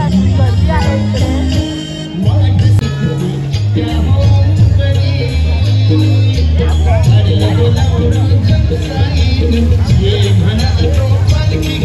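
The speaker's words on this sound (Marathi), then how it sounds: "पाण्यासाठी पण इतकी जास्त गर्दी आहे इकडे." A dense crowd gathered for a Sai palkhi procession on Gudhi Padwa fills the scene with loud, continuous babble of many voices. Strong rhythmic drumming or music pounds steadily underneath the whole time.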